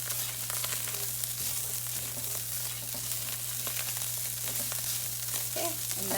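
Chorizo fries in a pan with steady close crackling and spitting, with occasional stirring scrapes and a low hum underneath.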